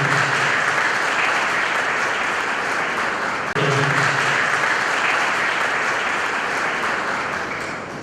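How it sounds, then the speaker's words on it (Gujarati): An audience at a community vocational guidance event applauds, steady loud clapping from many hands that carries on for several seconds and fades slightly near the end. "હાજી, જોરદાર તાળીઓથી એકવાર જોરદાર તાળીઓથી."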